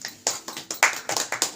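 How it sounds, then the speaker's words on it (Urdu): A small gathering celebrating the New Year claps in several short bursts of close, crisp applause with no talk. "وہ ساری تالیاں."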